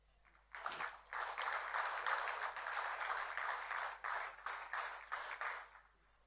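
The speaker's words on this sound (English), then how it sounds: "I would request all of you to give a warm applause" Applause from the audience at a CSR awards ceremony starts after a short pause, swelling into a steady, moderately distant round of clapping that continues for several seconds before fading out.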